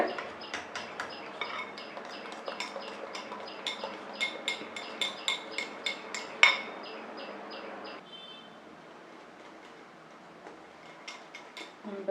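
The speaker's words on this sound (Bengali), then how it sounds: "পরিমাণ মতো জল অ্যাড করছি আর বেসনটাকে আমি ফেটিয়ে নেব" Gram flour (besan) batter for jackfruit chops being whisked with water in a bowl: quick, steady clinking taps of the whisk against the bowl for about eight seconds, then softer, sparser stirring.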